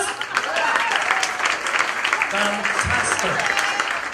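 An audience at a live comedy mind-reading show applauds volunteers, with a steady wash of clapping while a voice speaks briefly over it near the end.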